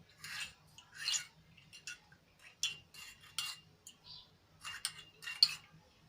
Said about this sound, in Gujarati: મસાલો એડ કરીને આપણે સરસ રીતે એને મિક્સ કરી લઈશું